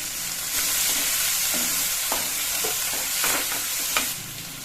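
Onion and tomato fry in hot oil with ginger-garlic paste in a pan for an ivy gourd gravy, a loud continuous sizzle broken by several scraping stirs of a spoon, with no talking.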